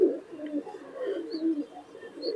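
Teddy pigeons coo in a steady run of low, throaty burbles close by, with a few faint higher chirps above them and no talk.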